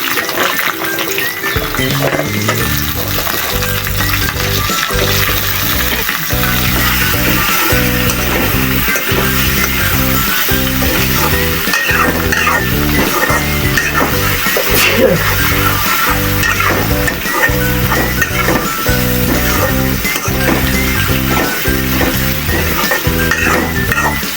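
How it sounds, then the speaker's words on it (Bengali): Potatoes and agra greens fry and sizzle steadily in a pan, a continuous close crackle with occasional stirring and utensil clinks, no voices. "এখন আলু আর আগ্রাটি আমি দিয়ে দেবো"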